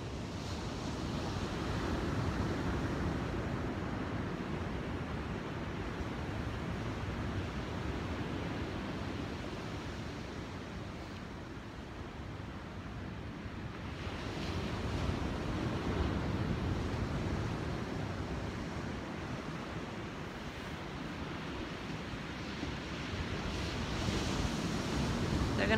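Ocean surf rolls steadily onto a beach where horses run into the water, a broad continuous wash of breaking waves mixed with wind rumble, fairly even with gentle swells in loudness and no voices.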